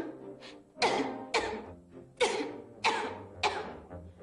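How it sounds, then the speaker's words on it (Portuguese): A woman coughs repeatedly indoors, about six harsh, close bursts in an uneven rhythm, with no talk between them. "apanhou uma tosse"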